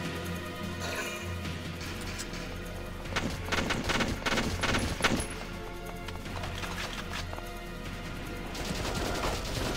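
Rapid SMG gunfire rattles through a Valkyria Chronicles battle, bursts of shots crackling over a steady low game rumble and music-like tones, loud and dense in the middle stretch.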